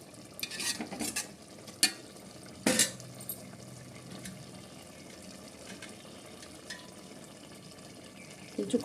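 A spoon stirs garam masala into a prawn curry with drumsticks in a pan, giving soft scraping and scattered clinks over a low simmering sizzle, quiet and close.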